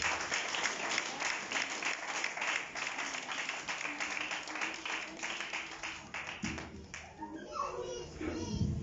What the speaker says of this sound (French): Applaudissez le Seigneur pour cette femme.